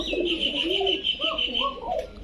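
Soft coos from Giribaz, Kokka and Rampuri pigeons rise and fall close by, with a steady high-pitched hiss underneath throughout.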